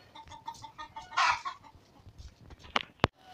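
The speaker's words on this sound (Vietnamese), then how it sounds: "Còn gần 20 con gà đẻ nữa. Cũng tầm 20 con gà trống nữa." Hens and roosters cluck repeatedly around a rural village home, a busy rhythmic clucking close by with a couple of sharper squawks toward the end.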